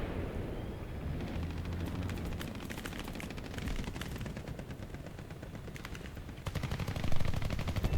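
Helicopter machine gun strafing a target in the War Thunder combat game: a sustained, dense, loud barrage of rapid gunfire that keeps going throughout, swelling with heavier bursts near the end.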